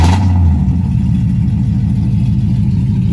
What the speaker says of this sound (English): So today we're riding in James's car.